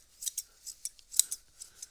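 Scissors snip quickly and crisply, about eight or nine short, faint cuts in an uneven rhythm with quiet pauses between them.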